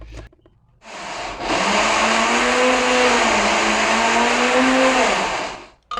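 A blender motor starts up and whirs loudly and steadily for several seconds, its pitch shifting slightly as it churns warm sweet potatoes with a little water, then cuts off.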